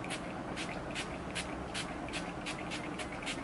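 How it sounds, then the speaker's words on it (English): Urban Decay All Nighter setting spray is misted onto a face in a quick run of soft hissing spritzes, close and faint, with no talk. "So let's just spray this on."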